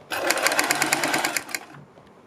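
Sewing machine stitching the straight-cut edge of a kurti neck, a steady rapid mechanical chatter running close and loud for about a second and a half before stopping.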